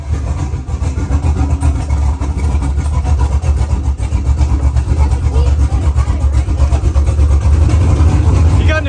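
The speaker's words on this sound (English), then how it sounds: "An exhaust leak, sir." A classic car engine with an exhaust leak runs as a steady, loud, close rumble throughout a ride on South Padre Island, with people talking over it.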